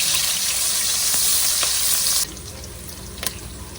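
Onions and cumin seeds frying in three tablespoons of oil on a medium-high stove, a loud bright sizzle that drops abruptly to a quieter hiss partway through, with a couple of sharp clicks near the end.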